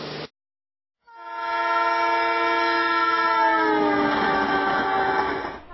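A Shatabdi Express passenger train arriving at Bhopal sounds a long, loud horn blast that holds steady for several seconds after a brief opening noise and a short silence.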